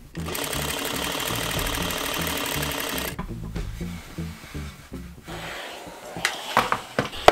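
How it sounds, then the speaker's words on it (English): Sewing machine stitching the outseams of wide-leg pleated pants, a steady close mechanical chatter running for about three seconds, then stopping and restarting in shorter bursts with handling noises. "now let's just sew up the out seams"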